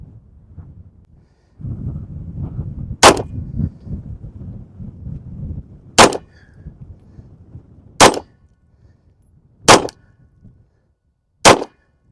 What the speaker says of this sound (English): We're gonna fire 5 shots and just see how she shoots.